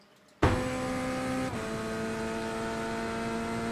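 A GT3 race car in iRacing, on the back straight at Portland International Raceway, holds a loud, steady engine drone after a sudden start, with a brief dip and shift in pitch partway through, and no talk.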